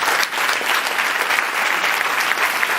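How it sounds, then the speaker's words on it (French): A church congregation at a Pentecost Sunday service bursts into loud, sustained applause, dense clapping from many hands filling the room evenly throughout. "Je veux que tu acclames le Seigneur, s'il te plaît."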